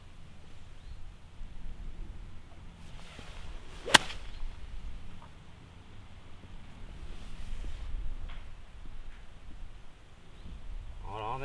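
At Åkersberga golf course, a club strikes the ball on the second shot with a single sharp crack against a quiet outdoor background.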